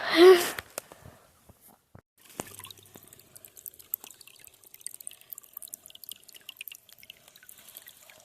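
A small spring stream in a Transcarpathian forest trickles and drips steadily with light, irregular water sounds. A brief louder burst comes at the start.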